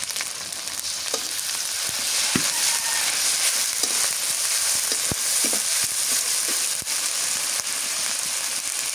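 Onions and green chilies frying in a pan, producing a loud continuous sizzle with scattered pops and scraping clicks from stirring, close and without any voices.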